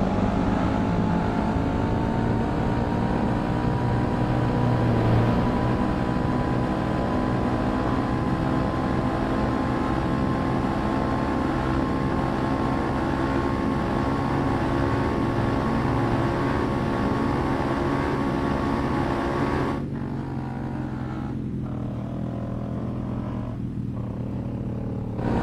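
A motorcycle engine runs steadily while riding, a loud continuous drone with wind rush that holds at an even pitch before easing off slightly near the end.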